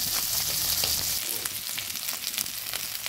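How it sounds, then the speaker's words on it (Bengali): Tengra fish sizzle and crackle steadily as they are turned and fried in hot oil in a kadai, a dense, close frying hiss with occasional stirring clatter throughout. "উল্টে পাল্টে ট্যাংরা মাছগুলোকে ভেজে নেব।"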